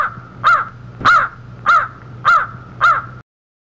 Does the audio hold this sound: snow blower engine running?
no